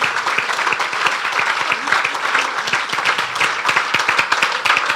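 A church congregation at a Palm Sunday service bursts into sustained applause, dense steady clapping from many hands lasting several seconds, with a faint voice underneath.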